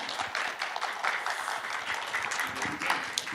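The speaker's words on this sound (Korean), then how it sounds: "큰 박수 부탁드립니다." Symposium audience applauding as a panel discussant is introduced, a short, moderately loud spell of clapping with some voices mixed in.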